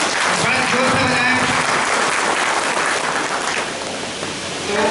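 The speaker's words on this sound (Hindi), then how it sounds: "सभी लोग हमारे महिला शक्तियों के लिए ताली बजाएं, बड़े जोर से बजाएं" An audience claps for the women present at a public address, a dense, sustained burst of applause that fills the space and fades slightly toward the end.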